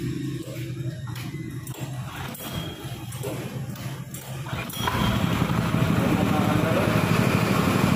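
A Honda GPX 200 engine runs steadily at an even, light idle, growing louder and rougher partway through, while someone talks over it.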